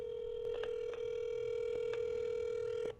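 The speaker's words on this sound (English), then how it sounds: "That is a long ring. It is a long ring." An old telephone rings on a call to a motel, a long continuous ring tone held steady and fairly loud throughout, with no talking over it.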